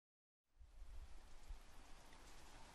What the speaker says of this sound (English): I'm going to get rain in my smoke box now.